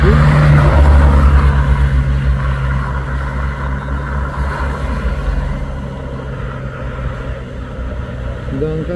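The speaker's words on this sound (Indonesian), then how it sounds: "Ini mobil-mobil yang mudik ya bosku." Cars in heavy Eid homecoming traffic on the Bukit Kodok hill road give a steady low engine rumble, loudest at the start as a vehicle passes close, then a continuous droning flow of passing traffic.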